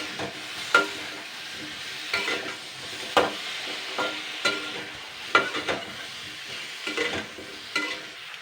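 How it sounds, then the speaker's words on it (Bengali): Black cumin paste and green chili paste sizzle in a pan over medium heat while a spoon stirs them in uneven scraping strokes, close and fairly loud, with no talking. "জাস্ট এটা দিয়ে আমি 1 মিনিট নাড়াচাড়া করব, 1 মিনিট জাস্ট।"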